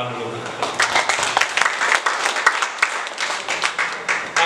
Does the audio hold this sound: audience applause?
yes